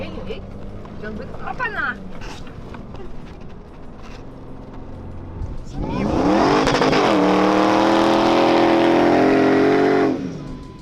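An off-road car driven by a professional driver bashes across Dubai desert dunes on a bumpy ride. Quieter rumbling and creaks give way midway to a loud, steady engine roar with strained revving. Talk is heard early on.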